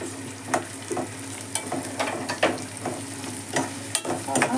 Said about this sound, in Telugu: ఉల్లిపాయలు, అల్లం వెల్లుల్లి వేగుతుంటే మంచి వాసన వస్తుందండి